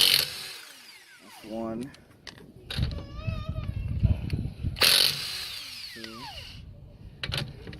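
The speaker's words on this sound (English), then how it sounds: "Using a Milwaukee impact, cordless." Milwaukee cordless impact wrench zipping off 19 mm lug nuts at the rear wheel of a jacked-up car, several short rattling bursts in close succession, with someone talking between them.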